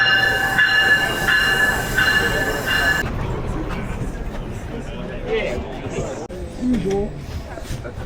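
Train in a crowded Toronto station at rush hour: a loud rumbling passage with a high wheel squeal for the first few seconds, then a fainter rolling rumble under crowd noise and voices.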